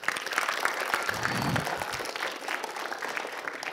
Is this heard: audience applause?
yes